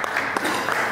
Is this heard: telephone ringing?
no